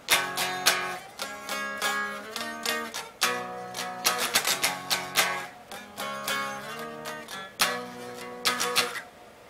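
Electric guitar in standard tuning strumming a song's chord pattern, with punchy rhythmic strums and short palm-muted gaps, played alone.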